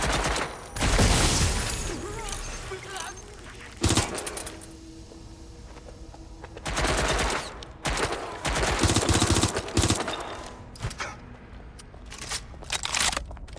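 Gunfire in Watch Dogs Legion set in London: loud bursts of rapid shots and sustained volleys come in clusters, with brief pauses between them and occasional sharp single cracks.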